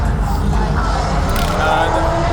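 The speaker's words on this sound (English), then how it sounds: "You can hear the night drifting is still going." Drift cars rev and skid in the distance at a night drifting event, a steady broadband roar of engines and tyre noise with no clear single pass.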